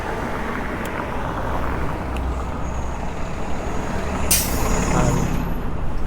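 A bus on a Toronto street at dusk gives a sharp, loud hiss of air brakes amid steady road and traffic rumble, heard close by from a bicycle.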